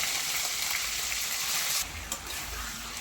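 Chicken pieces frying in a pan with mustard seeds and curry leaves, a loud, dense, steady sizzle close up that surges briefly near the end as the pan is stirred.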